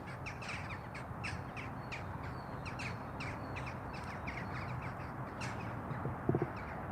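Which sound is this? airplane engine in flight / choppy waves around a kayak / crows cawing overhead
crows cawing overhead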